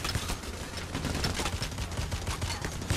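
Continuous rapid gunfire in Payday The Heist, a dense rattle of overlapping shots with thudding low punches, loud and unbroken across the whole stretch.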